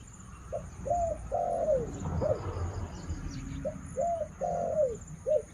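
A female spotted dove coos repeatedly in two rhythmic bursts, soft and hollow, over faint background noise with a low rustle between them.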